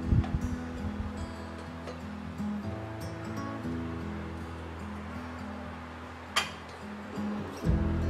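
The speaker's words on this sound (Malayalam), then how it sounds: "ഇനി നമുക്കിതൊന്ന് അരിച്ചെടുക്കണം." Blended lemon liquid for homemade dish wash strained through a sieve, a soft continuous trickle and splash over a low background hum, with a few brief clinks of utensils.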